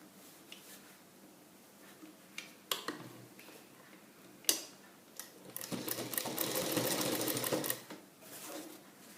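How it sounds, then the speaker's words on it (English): A sewing machine top stitches a bias facing piece, starting with scattered clicks and short bursts before settling into a steady, fairly close run of stitching that stops abruptly. "I'm going to give a top stitch on the bias piece"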